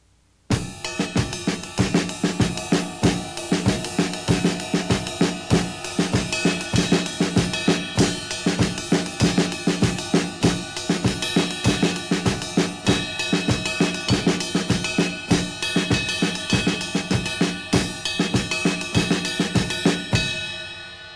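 A drum kit plays a steady groove for about twenty seconds, with the right hand on ride cymbal, the left on snare, and bass drum and hi-hat keeping four beats, bright and continuous with no talking.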